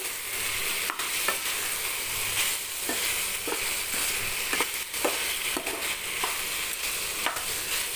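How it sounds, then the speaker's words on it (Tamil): Chicken and potato pieces sauté in a pan with a continuous bright sizzle, broken by repeated scraping stirs at an uneven rhythm, close and steady throughout, with no talking. "இந்த உருளைக்கிழங்கு அதுலேயே போட்டுக்கலாம் போட்டு கொஞ்சம் நேரம் வதக்கிக்கலாம்"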